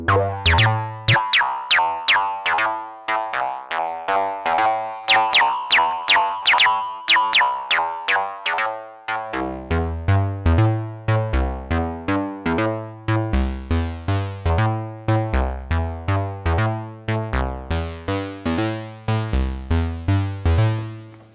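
IK Multimedia Uno Synth Pro X synthesizer playing a bouncy sequence with the filter envelope changed, rapid plucky notes with sharp decays and a twangy, boing-like sweep, loud and alone throughout.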